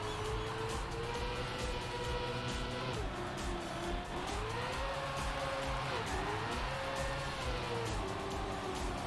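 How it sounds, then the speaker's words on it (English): Race car drifting in Trackmania during a TMGL Fall 2021 esports match, with a steady loud engine drone and a sustained whining tire squeal that bends in pitch through the turns, continuous from start to end. "Little drift here."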